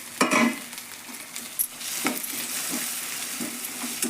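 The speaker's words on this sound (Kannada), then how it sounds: "ಈಗ ಟೊಮೆಟೊ ಹೆಚ್ಚಿದ್ವಲ್ರಿ, ಟೊಮೆಟೊ ಹಾಕ್ತೇನೆ." Chopped tomatoes drop into a hot pan of frying onions for a lentil gravy, setting off a loud sizzle, then a spoon stirs and scrapes against the pan over a steady frying hiss.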